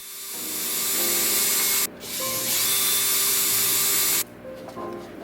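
A power drill whines steadily as it bores through a hose, pausing briefly midway and cutting off near the end, loud and close.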